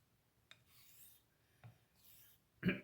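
A straight razor is honed on a Shapton 1500 whetstone to set the bevel, giving a few separate soft rasping strokes with sharp starts, the last one loudest, close and quiet in a still room.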